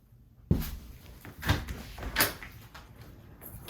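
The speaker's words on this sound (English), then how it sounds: "verify the door shuts as it should" An interior door with a newly installed door handle is swung and shut, with a sharp latch knock followed by several more thuds and rattles against a low room background.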